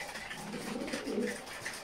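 Pigeons coo in a small dovecote, a soft, continuous murmur of overlapping calls heard at moderate distance for about two seconds, with no voices.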